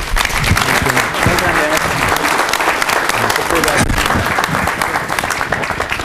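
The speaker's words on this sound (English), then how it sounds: "Could we get a round of applause for Mr." An audience applauds a keynote speaker, Mr. Morton, at a homeland security conference: dense, steady clapping fills the room at close range for the whole stretch, with faint voices mixed in.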